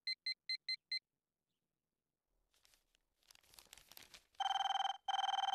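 A telephone rings in a quick run of five short electronic bursts. After a pause comes rustling and crinkling, then two loud, sustained ringtone bursts close by, with no talking.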